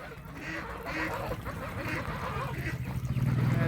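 Ducks and geese splash in a shallow farm pond about half a foot deep, giving repeated nearby quacks and honks over watery background, with a voice faintly present.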